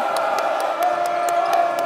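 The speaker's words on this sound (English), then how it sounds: "And listen to the crowd with the chant of defense." A boys' high school basketball crowd in a gym, a packed mass of voices chanting in a steady repeating rhythm with rhythmic thumps underneath, loud and filling the room.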